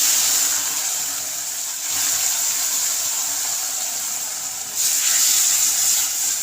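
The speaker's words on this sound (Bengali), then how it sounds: "আস্তে করে ঢেলে দেবো ডালটা" Red lentils poured into a hot pan of fried onions in two lots set off a loud, steady hissing sizzle that swells sharply as each portion goes in, with no talk over it.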